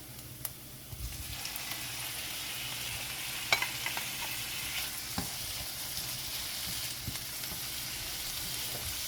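Mediterranean marinated vegetables sizzle steadily in a hot pan, with a few scraping stirs and light clicks of a utensil over the constant frying hiss; no talking.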